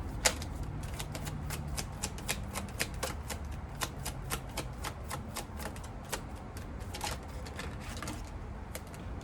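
Tarot cards are shuffled and drawn by hand in a quiet room, giving a long run of quick, crisp riffling flicks and snaps at close range with no talking.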